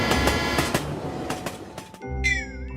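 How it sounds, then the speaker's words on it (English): A train rumbles past close by with rhythmic clickety-clack of wheels on rails, then a horn-like whistle sounds out at the end. "T is for train."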